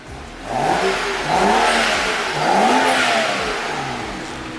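A BMW 335i engine with stock mufflers revs up several times in succession in eco mode, each rise and fall of pitch clear and close, ending in a steady idle-like drone.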